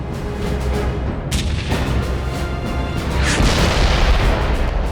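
Tank cannon fire during the Battle of 73 Easting, heard as a loud, dense rumble of booms. Low blasts and bursts merge into a steady roar across the whole stretch, with no talk.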